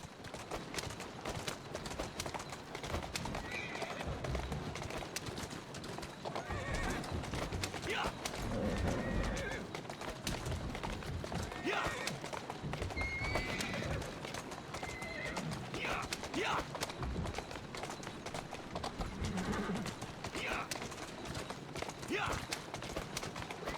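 Horse in the video game Assassin's Creed Syndicate, hooves clip-clopping in a steady gallop rhythm with several whinnies, while someone talks over the game sound.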